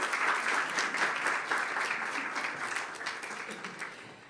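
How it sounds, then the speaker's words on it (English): Applause from the audience of a sustainability panel at the World Law Congress: a steady wash of many hands clapping that slowly fades, heard from some distance. "so please a great applause for him."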